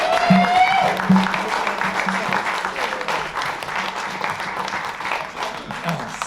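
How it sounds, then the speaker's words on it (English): An audience applauds steadily for several seconds, a dense wash of clapping that holds its level throughout. "one more round of applause for Andy Marx"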